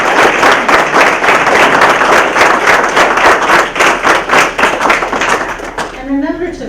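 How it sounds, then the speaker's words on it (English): Audience applause at a meet-the-candidates event fills the room with dense, steady clapping for about six seconds, then stops abruptly as a voice begins speaking. "Please join me now in offering a round of applause to all of them."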